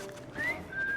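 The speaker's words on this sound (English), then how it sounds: "I've just learned to whistle." A person whistles two short rising notes, one after the other, in Assassin's Creed Syndicate, set against a quiet game background hum.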